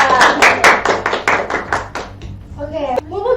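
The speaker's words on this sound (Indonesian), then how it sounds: "Oke, tepuk tangannya dong untuk mereka" Audience at a vocational school student council talk clapping for two guests, a short burst of distinct, fairly close hand claps that thins out after two seconds, followed by voices talking.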